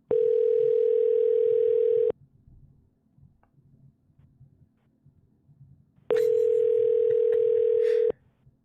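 A phone system plays a steady electronic tone during a call transfer, sounding in two identical two-second bursts separated by a quiet gap with faint background noise.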